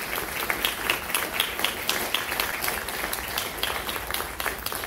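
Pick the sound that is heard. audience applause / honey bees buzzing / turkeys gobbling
audience applause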